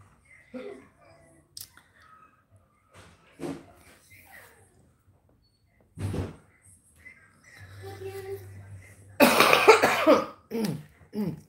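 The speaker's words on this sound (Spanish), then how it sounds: "He traído mucha tos." A woman with a sore throat coughs several times, with sharp isolated bursts spread across the clip and a loud, harsh cluster near the end amid quiet room noise.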